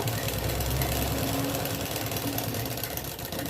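A sewing machine runs steadily while stitching a sleeve onto a ready-made dress, a continuous fast mechanical whir with a low rumble, close and unbroken for a few seconds, no speech.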